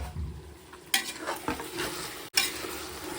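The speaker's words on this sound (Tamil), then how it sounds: "தக்காளி வதங்கிட்டு இருக்கு" Tomatoes with ginger and garlic sautéing in a pan, soft sizzling broken by a few quick spoon stirs and scrapes, close and fairly quiet, with no voices.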